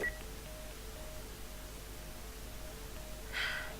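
Telephone being dialed in The Last of Us video game, a steady series of soft electronic tones pulsing at regular intervals under a low hiss, ending with a brighter, brief warbling beep, faint and without talk.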